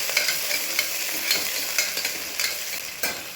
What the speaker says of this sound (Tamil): வெங்காயத்தை கொஞ்சம் நல்லா வதக்கிக்கோங்க.